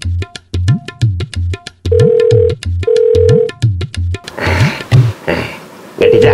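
A telephone rings in repeated short electronic bursts with steady tones between, loud and close, while people talk over part of it.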